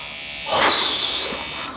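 An automatic microneedling roller with 2mm needles buzzes, a high steady electric whine that starts abruptly, swells and then holds, close by with no talking.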